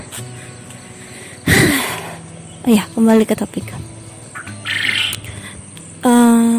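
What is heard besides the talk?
birds chirping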